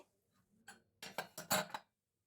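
A pressure cooker lid is opened after boiling carrots: a faint early click, then a quick cluster of close, sharp metallic clicks and clatters lasting under a second, with silence afterward.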